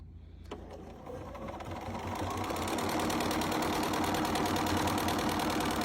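A Bernina sewing machine fitted with the #6 embroidery foot starts up and speeds into a fast, steady, close stitching whir that grows louder and holds, with no voices over it.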